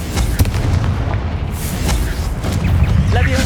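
A Confringo spell explodes in Hogwarts Legacy with loud, dense booming and rumble that fills the whole moment, alongside game noise.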